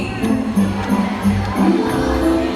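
An audience at a bird show in Cebu Ocean Park cheers on Goldie, a blue and gold macaw, with a steady wash of crowd shouting and whooping mixed with a host's voice.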